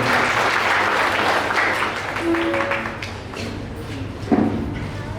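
An audience claps steadily for a teacher at a university college accounting department farewell ceremony, a dense wash of applause that fades slightly then swells again with a thump near the end, with faint voices mixed in.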